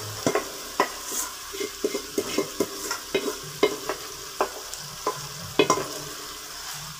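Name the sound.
stir-frying keema matar in a pan over medium heat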